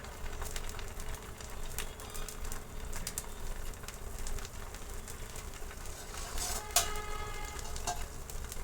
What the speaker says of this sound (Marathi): गरम झालेला आहे आता एक डोसा टाकून घेणार आहे